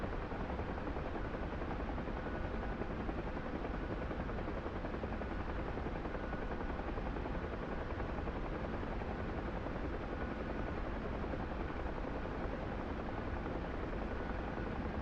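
A video game helicopter's engine and rotor produce a loud, unbroken broadband roar and thrum that holds steady throughout, with no voices over it.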